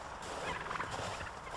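Turkeys gobbling in a snowy backyard beside a barn, a dense, continuous chorus of several birds calling at once, steady and moderately loud with no talk over it.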